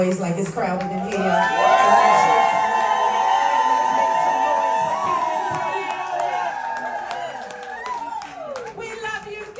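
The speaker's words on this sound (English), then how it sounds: "Make more noise, like it's crowded in here." A packed crowd cheers, whoops and shouts nonstop at an awards-style tribute event, loud and sustained, with high excited voices and some clapping rising to a peak early and then tapering slightly.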